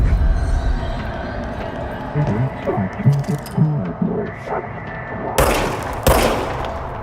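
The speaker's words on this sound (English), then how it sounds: "Now I have a gun. And something tells me this is no ordinary gun." Gunfire from a weapon in the video game Control, two sharp loud bursts near the end after a stretch of game ambience, with a voice talking over the middle.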